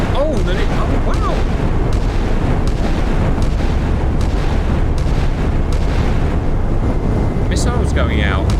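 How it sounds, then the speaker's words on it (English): Warships in the Sea Power naval game, an O.H. Perry frigate against Nanuchka missile corvettes, fire missiles amid a continuous heavy roar and rumble of launches and booms, with whooshing streaks near the end. "Missiles going out."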